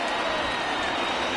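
In MLB The Show 20, a packed baseball stadium crowd of over 39,000 roars continuously, a dense, steady wash of cheering that stays even and loud throughout.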